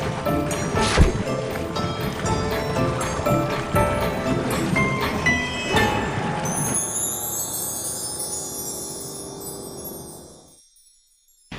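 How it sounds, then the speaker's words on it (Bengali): A cartoon boat crossing a river, with a busy mix of water sloshing and rowing-like sounds under a music bed that fades out near the end; no speech. "এই মাঝি নৌকাটা ওই পারে নিয়ে চলো।"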